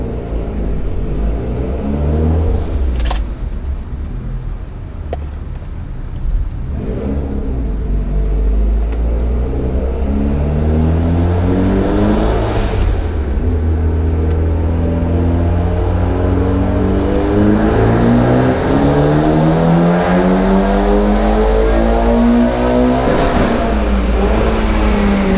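A Mitsubishi Evo X with a stock block and head, running its maxed-out stock turbo on E85, revs hard on a dyno in one long, loud pull as the engine note climbs steadily toward redline.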